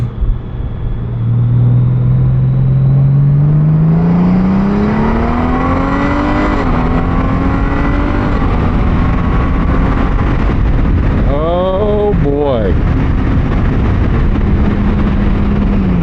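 A Honda Goldwing DCT motorcycle pulls hard onto a highway in sport mode. The engine note climbs through a loud, continuous surge, with short gear-change dips partway through and steady wind roar behind it.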